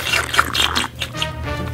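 Water running and trickling from a toy swimming pool into a LOL Surprise baby doll, a splashy liquid fill that is close and fairly loud, with a brief dip midway before resuming.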